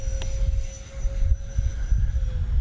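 An E-flite A-10 64mm RC jet flies with a steady whooshing ducted-fan whine over rumbling outdoor wind noise, holding a constant pitch throughout.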